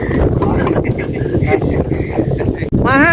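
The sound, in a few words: wind blowing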